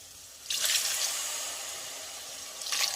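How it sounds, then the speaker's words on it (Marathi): Water splashes into a spiced curry of sprouted moth beans for a Kolhapuri misal, two soft pouring bursts over a quiet hissy background, fairly faint and close. "त्यानंतर यामध्ये आपल्याला गरजेनुसार पाणी घालायचं आहे।"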